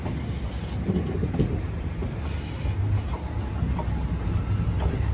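The Aurangabad Guntur Express rumbling along a winding stretch of track: a steady, loud roll of wheels and carriage rattle with faint rhythmic clacks, heard from aboard the train with no voices.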